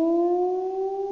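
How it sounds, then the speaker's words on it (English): A steady, sustained video game alarm siren holds two clear pitches, loud and unwavering for about a second, with no voices. "What is this siren?"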